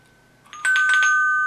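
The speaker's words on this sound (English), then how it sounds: "you can see the bell is working really nicely there" An old doorbell with a loose solenoid rings in a quiet room, a bright sustained electric ring that starts after a faint click and holds steady to the end.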